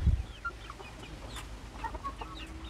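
Crossbred local fowl and junglefowl chickens, about three months old, cluck softly in a backyard coop in Vanuatu, with scattered short calls and chirps over quiet rustling after a brief low thump at the start.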